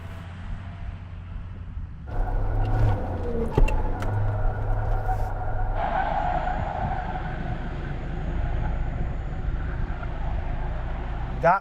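A Suzuki Jimny spins celebratory donuts off-road, the engine note jumping up after a quiet start and then holding a steady, rising drone with some voices under it.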